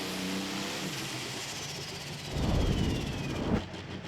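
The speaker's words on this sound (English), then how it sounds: "Starts to gain ground there about the 200-foot mark as he goes full throttle." A pro stock pulling tractor engine roars at full throttle at a pulling event in Franklin, Kentucky, a distant sustained rumble that swells in the second half.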